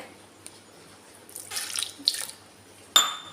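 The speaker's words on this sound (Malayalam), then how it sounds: "മിക്സി ബൗളിലേക്ക് കുറച്ച് വെള്ളം ഒഴിച്ച് കൊടുക്കുവാണേ" Water splashes and pours into a mixer jar in a few short bursts, close and fairly quiet, with a brief clatter near the end.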